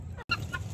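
A couple of short, soft clucks from a chicken nearby, broken by a brief gap of silence.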